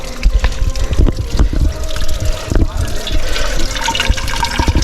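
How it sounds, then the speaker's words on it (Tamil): Water from a hillside spring after rain trickles and splashes steadily nearby, a continuous burbling flow with someone talking over it. "மழை பெஞ்சதால் இந்த ஒரு ஊற்று இங்கே ஒரு உருவாகி வந்துட்டுருக்கு சுனை தண்ணி"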